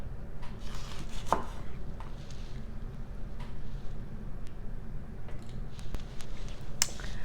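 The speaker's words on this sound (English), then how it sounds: "When I cut this up, I'm very careful to not touch the seeds or the inside of the jalapeno." A knife chops through a jalapeno on a cutting board in a repeated series of crisp, close taps and thuds over a quiet background.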